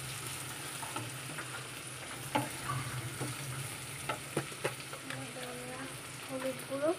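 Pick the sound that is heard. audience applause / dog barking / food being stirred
food being stirred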